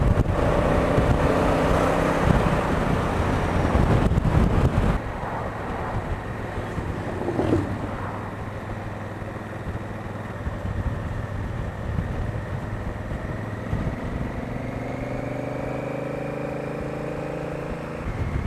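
A Honda Africa Twin motorcycle riding the Kuranda Range road near Cairns, engine drone and shifting pitch under heavy buffeting wind noise, loudest at the start, then a steadier hum with rising engine tones near the end.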